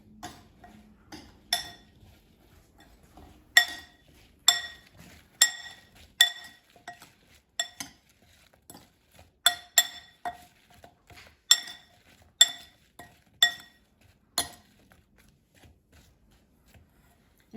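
Plantain slices tossed with salt and paprika in a bowl, giving a series of sharp, clicking taps in uneven bursts, fairly close, with no voice over them.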